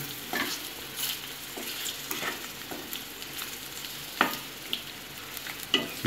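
Egg pepper fry masala sizzling in a pan while being stirred, a steady close frying hiss broken by irregular scraping strokes of the spoon, with a few sharper clacks toward the end.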